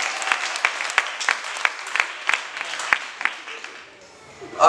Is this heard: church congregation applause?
yes